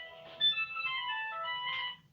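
A mobile phone ringtone plays a short, bright melodic tune of clear electronic tones for about two seconds, fairly faint in a quiet room.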